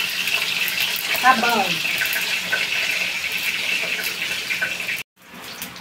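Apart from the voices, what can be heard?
tap water running to fill a rice pot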